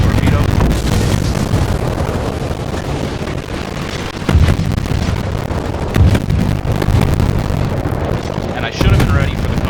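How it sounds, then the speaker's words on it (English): A torpedo strikes a warship in World of Warships, with several deep rumbling booms over a constant roar of wind and water, while someone talks. "I'm going to finally eat a torpedo"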